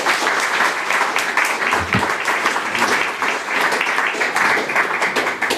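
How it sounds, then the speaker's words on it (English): A conference audience claps steadily after a fireside chat about AI, a dense, even wash of applause lasting throughout without voices standing out. "Please give me a round of applause"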